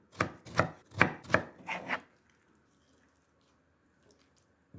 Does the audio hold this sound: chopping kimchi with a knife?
yes